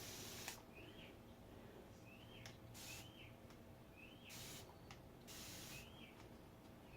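A spray bottle mists water onto a distressed wooden china cabinet in about six quick, hissing bursts spaced a second or so apart, fairly close and unaccompanied by talk.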